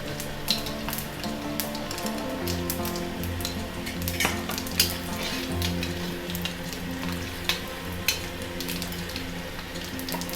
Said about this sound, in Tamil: கடுகு உளுத்தம்பருப்பு தாளிச்சிடுவோம்